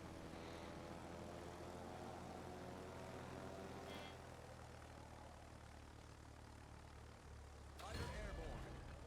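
A carrier fighter launches in the World of Warships naval game, aboard the carrier Hermes, with a steady propeller-engine drone that holds throughout and swells into a brief louder whoosh near the end.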